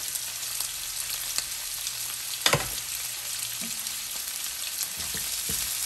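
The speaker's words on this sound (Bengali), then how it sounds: "এখন আমি চিংড়ি মাছ, রসুন, পেঁয়াজ, কাঁচামরিচ ভেজে নেব।" Shrimp, garlic, onion and green chilies fry in oil with a steady, close sizzle. A spatula stirs and clatters briefly partway through, and a few more light scrapes follow.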